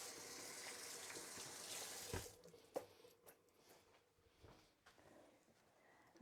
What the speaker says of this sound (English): I've had the tap running